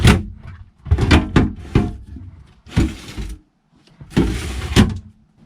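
Galley drawers on a Corbin sailboat slide open and shut in a series of close, loud wooden rumbles and knocks, several strokes spread over a few seconds.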